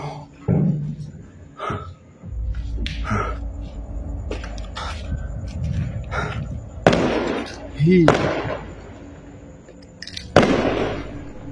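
Firecrackers pop repeatedly at irregular intervals at midnight, some sharp and close, with people talking and breathing nearby on a terrace.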